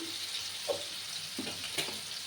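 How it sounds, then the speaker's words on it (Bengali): Potato pieces frying over high heat in a pan with turmeric powder, a soft steady sizzle with a few faint stirring knocks, quiet and close. "এখানে আমি আলুগুলোকে একটু 2 মিনিটের মতো আমি হাই আছে আলুগুলোকে ভেজে নেব।"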